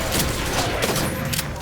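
A sharp, punchy shotgun blast from a Halo weapon fired against the Covenant, loud and close amid dense in-game noise.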